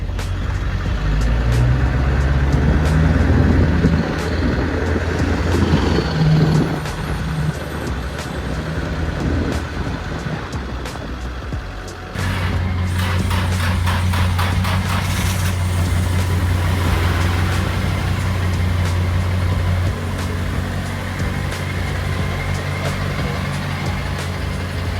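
Steady low engine rumble from inside a moving truck, continuous and close throughout, with a shift in tone midway as the drone grows heavier and more even; no talking.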